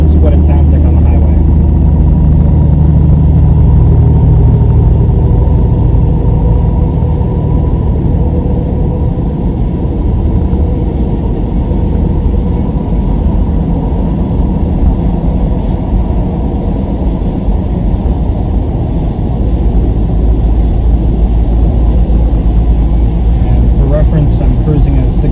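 A steady, loud rumble of road and engine noise inside a 2021 Ford Bronco Big Bend with a four-cylinder engine, cruising on a windy highway at 65 mph, unbroken for the whole stretch.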